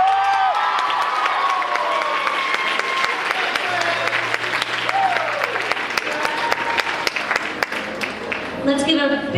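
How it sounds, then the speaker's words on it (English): Sustained applause from an awards ceremony audience cheering the most talented male and female contestants: dense, steady clapping that fills the room, with a voice and some cheering partly audible beneath it. "Let's give a big round of applause to our most talented male and female contestants"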